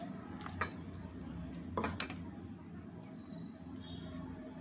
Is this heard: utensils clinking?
yes